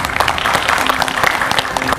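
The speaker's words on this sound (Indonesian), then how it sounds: "Tepuk tangan yang meriah untuk narasumber saya, Taufik Basari, politisi Partai Nasdem." A studio audience at a televised political talk show gives loud, sustained applause for panel guests, a dense continuous wash of clapping close by.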